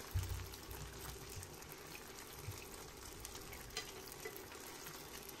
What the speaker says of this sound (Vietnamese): chiên cho nó vàng vừa thôi đừng có bị cháy là được